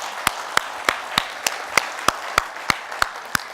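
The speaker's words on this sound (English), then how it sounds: "how about a round of applause for all our presenters today in the section?" A few people clap at a technical plenary session for the presenters, giving sparse, evenly spaced sharp claps about three per second, fairly close and with no talking.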